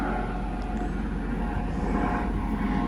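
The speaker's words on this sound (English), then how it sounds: "sorry, there's a helicopter. There's Coast Guard flying over." A Coast Guard helicopter passing over a summer garden, heard as a steady, broad engine and rotor drone at moderate distance, continuous throughout with no talking.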